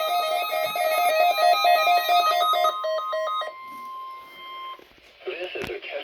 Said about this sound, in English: This is a test of the weather radio's warning alarm device